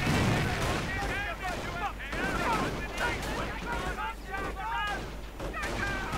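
Dense, continuous battle noise from a strategy video game: rapid bursts of rifle and machine-gun fire mixed with rifle-grenade blasts and booming impacts, loud and layered throughout, with a commentator talking over it.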